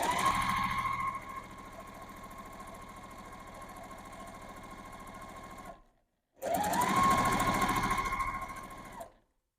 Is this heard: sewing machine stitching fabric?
yes